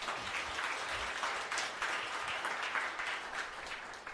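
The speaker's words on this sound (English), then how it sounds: "So let's applause them." Sustained applause from a meetup audience for the speakers at a data science in journalism event, a dense steady patter of many hands lasting throughout at a moderate, even level.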